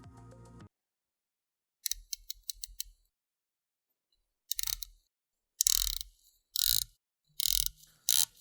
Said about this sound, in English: Just a tad less harsh than the typical microbrand bezel, but very clicky and no backplay